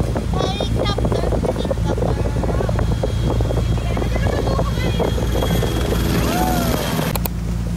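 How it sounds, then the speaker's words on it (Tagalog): A helicopter flies overhead in Palawan, its loud continuous rotor thrum and whine running throughout, with people talking nearby and wind buffeting the microphone. "Helicopter."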